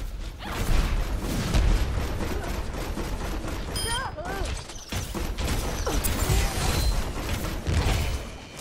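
Gunfire striking a deployed turret in the game Overwatch, heard as rapid volleys and mechanical clanks with a few sharp metallic pings, loud and continuous throughout.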